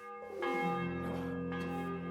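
A church bell tolls in the medieval video game Kingdom Come: Deliverance 2, two clear resonant strikes about a second apart, each leaving a long ringing hum of overtones, fairly close and alone.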